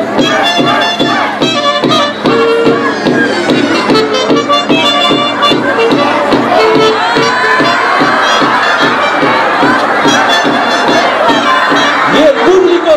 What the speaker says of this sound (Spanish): Y el público vibra de emoción.